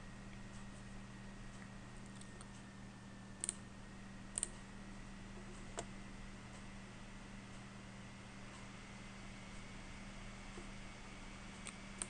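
A few sharp, faint mouse clicks on a Jenkins build button stand out over a steady, quiet electrical hum.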